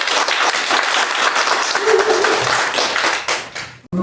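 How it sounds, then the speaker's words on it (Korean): Enthusiastic applause from a lecture audience at Dongguk University greets an arriving professor, loud and sustained, with a brief voice in the middle and the clapping tapering off at the end. "여러분들 뜨거운 박수로 시작하겠습니다"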